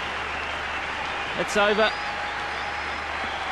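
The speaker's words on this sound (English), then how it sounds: "It's the adulation from the crowd." Applause from the crowd at the 2015 Cricket World Cup final between Australia and New Zealand rises briefly after a batsman's innings. A commentator speaks over it, and the clapping stays fairly faint and distant.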